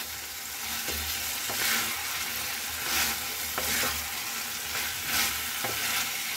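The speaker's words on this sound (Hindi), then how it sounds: "तो इसे मैं 2 मिनट और भूनूंगी इसी मसाले में" Chicken frying in masala in a pan, stirred as it cooks: a steady, loud sizzle with periodic scraping stir strokes, close and continuous without talk.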